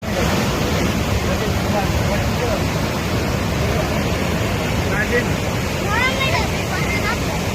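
The Kalubhar river near Umrala, swollen after heavy rain, rushes in a loud, steady roar of churning floodwater from start to finish, with faint voices briefly audible underneath.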